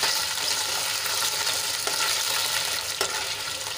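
Gunda (glue berries) fry in oil and are stirred in a pan, giving a steady, close hiss of sizzling with a couple of brief scraping clinks from the spoon, and no voices.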